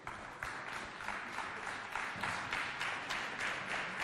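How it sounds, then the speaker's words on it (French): A school competition audience applauds a student contestant being welcomed, continuous dense clapping heard somewhat faintly and from a distance, steady for the whole stretch with no talk over it. "On applaudit très fort Bambambi,"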